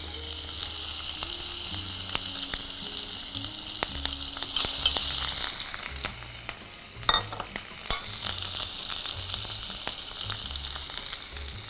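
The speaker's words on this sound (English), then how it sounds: "that's the pop and crackle we want to hear" Fresh minced ginger, green chili and curry leaves spit and crackle in hot oil, a steady close sizzle broken by sharp pops and a few louder bursts, with no voices.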